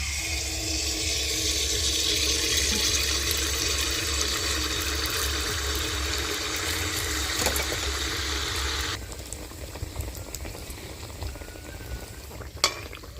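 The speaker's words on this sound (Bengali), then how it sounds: "এবার একটা পোয়া পিঠা দিচ্ছি তেলে।" A poa pitha of rice flour and date-palm jaggery batter frying in hot white oil in a kadai, a steady bubbling sizzle with a low rumble that shifts to sparser crackling and spitting near the end, with occasional utensil clicks.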